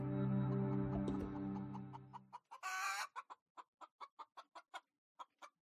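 A chicken coop: one hen gives a drawn-out, sustained cackle, a sharp flurry of squawking follows, then a steady string of short, evenly spaced clucks up close with silence between them.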